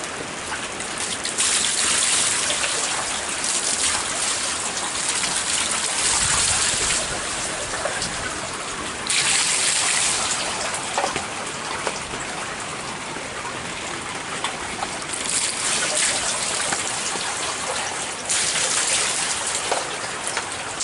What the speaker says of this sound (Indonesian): Duh nok ini cuaca enakan hujan terus-terusan ya.